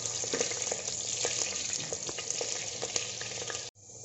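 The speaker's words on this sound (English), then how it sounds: "So I will fry it till they turn golden brown." Potatoes fry in hot oil with a steady close sizzle and occasional pops and stirring clicks, cutting off abruptly at the end.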